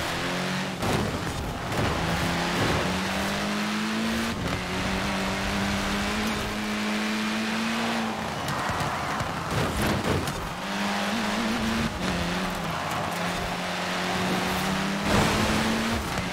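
A car driven in the racing game Forza Horizon 4, its engine droning steadily loud throughout with the pitch rising and falling through gear changes, plus occasional tire noise, heard close and continuous.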